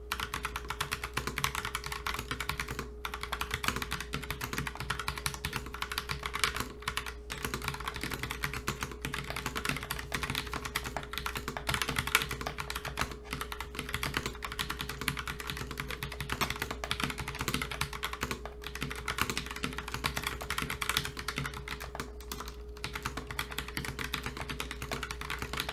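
Continuous rapid typing on a Logitech Pop Keys keyboard, dense clacking keystrokes close by with brief pauses, over a steady low hum and no talking.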